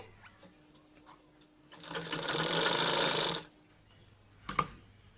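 A sewing machine runs in one steady burst of about two seconds, double-stitching a zipper for a hidden pocket on a salwar, with quiet handling clicks before and after.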